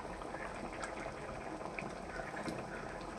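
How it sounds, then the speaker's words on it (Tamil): A pot of Tamil dried fish curry (karuvadu kuzhambu) with large pieces of dried fish simmers on low heat, giving a steady, close bubbling and seething that stays even throughout. "குழம்பு நல்லா கொதிச்சிச்சு, கருவாடு நல்லா வெந்துடுச்சு"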